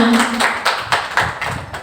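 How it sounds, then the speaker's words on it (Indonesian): A group of teachers clapping together at the close of a school discussion session, several loose, uneven claps with distinct sharp hits, fairly close and loud. "Tepuk tangan dong untuk kita semua."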